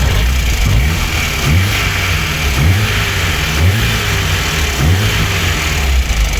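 A VAZ 2109 engine with a freshly reworked cylinder head, recut valve seats and new rings runs at idle and rises into four or five short, regular revs. It sounds close and loud throughout, with no talking.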